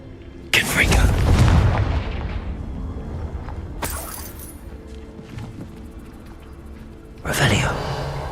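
The Confringo explosion spell goes off in the Hogwarts Legacy video game as three loud booming blasts, the first long and rumbling, then two sharper bursts, with a voice speaking between them.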